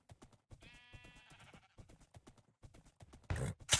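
A horse in a Minecraft modpack game makes a quick series of clip-clop hoof steps with a neigh-like whinny, followed by a louder rustling burst near the end, faint overall.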